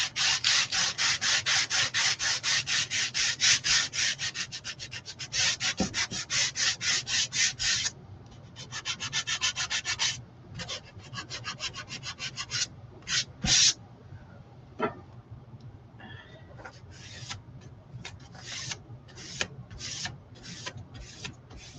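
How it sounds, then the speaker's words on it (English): A wooden clipboard sanded by hand: steady rasping strokes in quick, even rhythm, loud and close, thinning into shorter, sparser scrubs toward the end with no talk. "let's give this a little sand."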